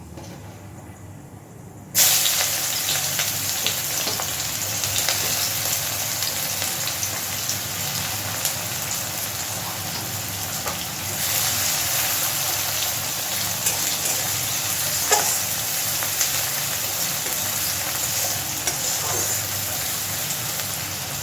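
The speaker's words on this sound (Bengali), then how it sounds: "পেঁয়াজটা একটু ভেজে নেব।" Chopped onions, added to a pan just after a little sugar, fry with a steady, loud broadband sizzle and hiss that starts abruptly and carries on evenly throughout, with no voices.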